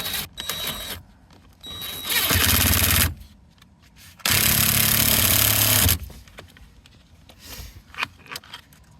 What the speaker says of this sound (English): we can go ahead and secure this bolt back in